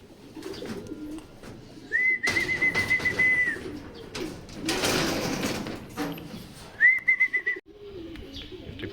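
Racing pigeons in a family loft coo in soft low repeated calls, mixed with wing flutters, clattering handling noises and a couple of thin whistling tones.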